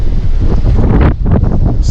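Strong wind buffeting a microphone outdoors on a lake while fishing, loud low rumbling gusts that roar continuously with brief dips, and no speech.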